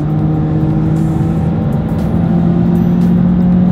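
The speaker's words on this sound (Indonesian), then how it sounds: "putaran mesinnya juga berpindahnya di putaran yang lebih tinggi kalau kita kick down" Inside a Mazda2 GT hatchback, the engine drones loud and steady under kick-down acceleration, with a rising tonal whine as revs climb toward 6500 rpm before the shift, no voices.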